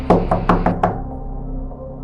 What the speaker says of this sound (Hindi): झांकरी के दरवाजे को हमने खटखटाया